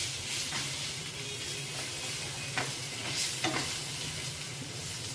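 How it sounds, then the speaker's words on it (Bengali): Chopped ginger hits cashews already frying in a pan, making a dense continuous sizzle close by, with a few faint scraping stirs and light clicks along the way and no speech. "এটাও আমি ভেজে নেব। কাজুগুলো আমি কিছুক্ষণ নাড়াচাড়া করে নিয়েছি। এবার এতে দিয়ে দিচ্ছি আমি আদা কুচি।"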